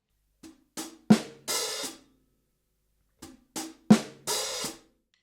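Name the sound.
drum groove with short open hi-hat bark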